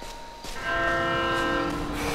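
A train rolls past with a steady rumble while its horn sounds in long sustained tones, loud and close, in the video game GTA 5 in a forest near a sawmill at night.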